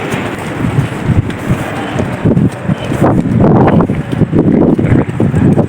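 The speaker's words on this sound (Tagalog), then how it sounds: "Mas mahangin eh, no?" Wind blows across a second-floor spot at night, gusty rushing buffets striking the microphone and strengthening in the second half, with no voices.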